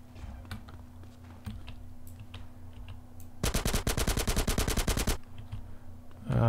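Rapid automatic gunfire in the video game GTA San Andreas rattles out in a dense burst of nearly two seconds over a steady low game background hum.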